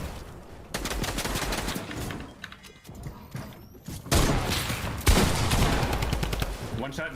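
Video game gunfire, bursts of rapid automatic shots with mechanical clacks between volleys, loud and close, coming in several separate sprays with short gaps and some talking in between.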